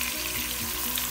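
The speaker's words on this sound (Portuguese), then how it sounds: "E aí já tá tudo aqui fritando." Chicken with plenty of crushed garlic, a pepper and salt fries in a pan for a chicken-and-rice dish, a close, steady, loud sizzle with no talking.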